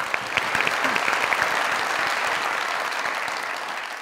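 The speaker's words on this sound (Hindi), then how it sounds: "असद अमान साहब के लिए ढेर सारी तालियां" Sustained audience applause at a Hindi-Urdu comedy and poetry show, dense steady clapping throughout with a faint voice or two briefly under it near the start.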